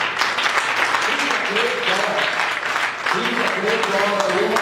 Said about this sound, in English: Give a big clap to the Lord Jesus.